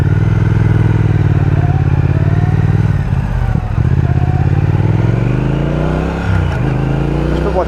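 A Triumph Speed Twin 1200 motorcycle pulls away hard through early second and third gears, its loud, close engine note climbing in pitch, dipping at a shift and rising again in a continuous throaty roar.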